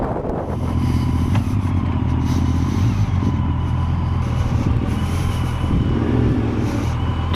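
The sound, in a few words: noisy motorcycle engine on a rally ride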